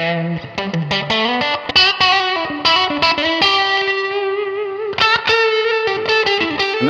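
Electric guitar played through effects on a split-coil, Strat-style setting, heard as a loud run of bright picked notes and chords with slight distortion and chorus shimmer, steady throughout with no talking.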